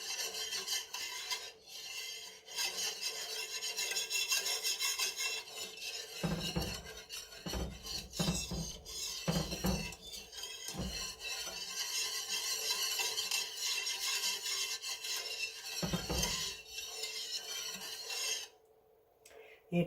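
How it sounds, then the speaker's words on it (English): A whisk scrapes and rasps around a pot of red chili enchilada sauce, continuous close stirring with rhythmic metallic scratching and occasional louder knocks against the pot. "So I'm going to continue stirring with my whisk."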